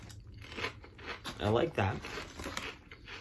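Someone bites and chews thin, crunchy marinara-flavored kettle chips close to the microphone, crisp crackling crunches mixed with bag crinkling, while a person speaks briefly over it.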